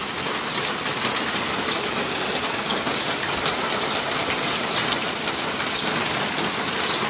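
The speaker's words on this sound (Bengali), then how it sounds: "জোরে হচ্ছে না, কিন্তু টিনের শব্দ হচ্ছে, টিনের মধ্যে বৃষ্টি পড়ছে।" Light rain falls on a tin roof as a steady, even patter, with faint, regularly spaced ticks over a continuous hiss and no voices.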